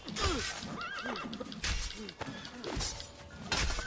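A horse in the Assassin's Creed 2 video game neighs loudly and repeatedly, its whinnies rising and falling over game sound effects, with occasional bursts of thuds and crashes and faint talk at times.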